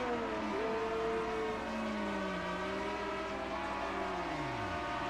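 A 1978 race car in a Deutsche Rennsport Meisterschaft (DRM) sprint at the Int. ADAC Bilstein Super Sprint plays back in a replay, its engine droning at a distance and then dropping in pitch as it fails and dies away, heard faintly alone.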